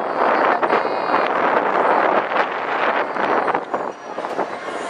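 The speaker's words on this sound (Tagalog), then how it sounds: "Ang problema nga lang ngayon, sobrang lakas ng ng hangin." Strong gusty wind buffets an unshielded microphone outdoors after rain, producing a loud, continuous roaring rumble with fluctuating gusts throughout.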